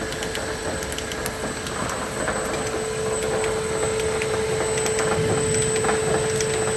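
A slitter machine running at speed 25 gives a loud, close, continuous mechanical roar with a steady high whine and faint rattling ticks, and no voices.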